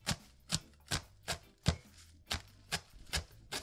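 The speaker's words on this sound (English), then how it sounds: "ready to cut my callaloo. I cut them in small bits" Knife chopping callaloo into small bits on a board, about nine crisp, evenly spaced chops in a steady rhythm, close and clear with nothing else in the background.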